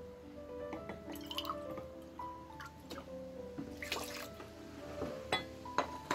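Water is poured onto sugar in a pot for quince preserve, making faint, intermittent splashes and drips in a quiet kitchen.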